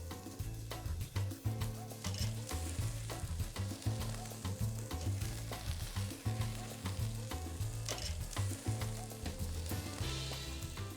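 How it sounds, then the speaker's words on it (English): Steaks sizzle and crackle over a charcoal grill, a constant bright hiss with rhythmic pops and soft scraping, close and fairly loud throughout. "So you'll grill the steaks for 4 to 5 minutes per side for medium rare."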